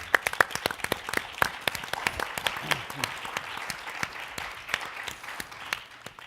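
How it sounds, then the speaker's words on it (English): Audience applause at a legislators' education retreat, a modest crowd clapping in sparse, distinct claps that thin out toward the end, fairly quiet with a faint voice beneath. "So join with me in applauding our visionary."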